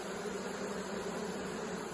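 Honeybees buzz steadily at a hive, a dense, even drone close by with no pauses and no voices.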